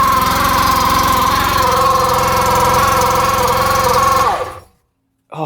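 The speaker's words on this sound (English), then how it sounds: "They said they think that the brand new belt is squealing because it's still tight on there." A used UTV with a brand new belt and clutch runs loud and close, its engine droning under a high, steady belt squeal that winds down and cuts off abruptly, followed by brief silence.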